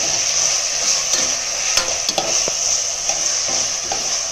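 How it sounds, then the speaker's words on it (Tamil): Tomatoes with salt stirred in a frying pan, a loud continuous sizzle with scattered scrapes and knocks of the spatula throughout. "போட்டுட்டு நல்லா கலரி விட்டோம்னா தக்காளி நல்லா கூழாக மசிஞ்சிடும்"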